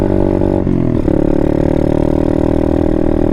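A dirt bike engine runs loud and close, its steady buzzing tone dropping in pitch right after a gear shift and then climbing again as it revs on in the new gear.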